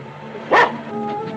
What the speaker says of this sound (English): Your cur would bark?